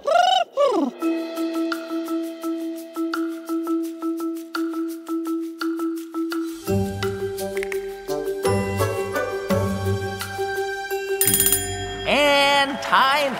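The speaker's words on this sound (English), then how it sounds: "Hey, Reggie, cue the thinking music." Playful game-show thinking music on a podcast quiz about trees: a bright, tinkling bell-like melody plays alone at first, then fuller instruments and bass join midway, ending in a brief flourish.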